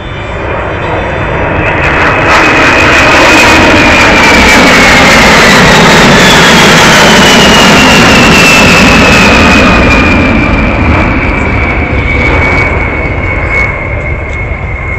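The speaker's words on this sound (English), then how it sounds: "it's the last higher speed pass of the B-52" Boeing B-52 bomber making a high-speed flyover pass at RAAF Base Pearce near Perth, a very loud sustained jet roar that swells, peaks and slowly recedes, with a descending whine as it passes overhead.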